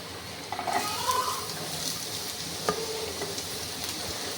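Finely chopped medium onion frying in a pan while making Kerala meat ada, a steady soft sizzle with occasional stirring scrapes and clinks of a spoon.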